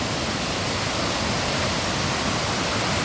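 Strong storm wind roars in a dense, unbroken rush of broadband noise that stays loud and even throughout, with no voices.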